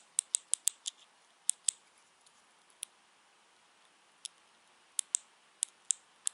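Sharp, bright clicks from the rear wiper switch button of a Porsche, in irregular bursts of two to five with short pauses between, fairly close and alone against a quiet background.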